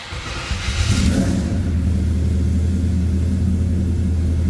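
A 355 V8 in a 1970 Chevrolet Chevelle Malibu convertible fires up with a rising roar, then settles into a loud, steady, deep rumbling idle heard up close.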